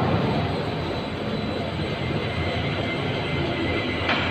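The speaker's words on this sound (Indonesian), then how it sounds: "Ini kita pengetesan untuk mesin ayakan." A candlenut sieving machine on test runs as a continuous broadband mechanical roar, loud and steady throughout with no pauses, heard alone without talk.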